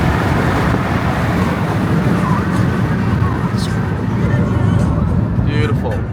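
A car driving along a road on a trip from the Sunshine Coast to Sydney, heard from inside as a steady, close engine and tyre rumble with road noise, a few faint voices underneath.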